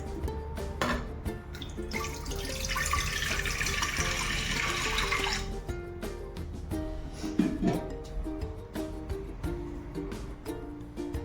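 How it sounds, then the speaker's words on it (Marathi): Water runs steadily into a metal pressure cooker for a few seconds, a bright splashing rush, with clinks and knocks of cookware before and after. "आधी आपण कुकरमध्ये पाणी टाकूया"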